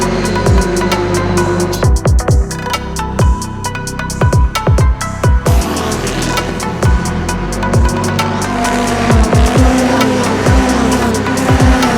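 Onboard sound of a Euroformula race car at full speed around the Red Bull Ring, with a loud, dense engine roar and repeated sharp gear-shift cuts in a steady rhythm, plus wind buffeting, with no talk.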